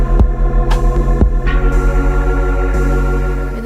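Sewing machine fitted with a regular ruffler attachment gathering fabric, a steady loud motor hum with rhythmic throbbing stitch pulses and a few sharp clicks, close up with no talking.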